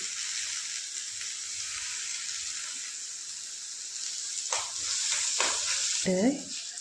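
Tomatoes sizzle and hiss steadily in a hot frying pan, with sharp stirring scrapes near the end as they are tossed.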